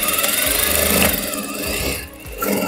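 A sewing machine topstitches a folded blouse seam, a dense, steady mechanical whir that runs loud and close for most of the stretch, dipping briefly before picking back up.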